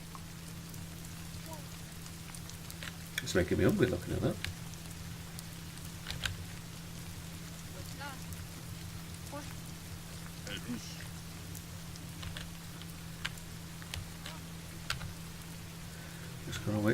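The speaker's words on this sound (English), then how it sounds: "And it's raining." Rain falls in the video game Dawn of Man as a steady, soft patter with a constant low hum beneath it. A voice talks over it, and a brief louder burst of noise cuts through early on.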